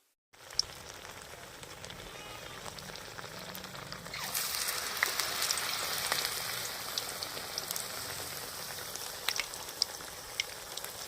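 Battered pumpkin leaves dipped in gram flour sizzle and crackle in hot oil, a steady frying hiss that swells louder after a few seconds, with occasional sharp pops and no talking.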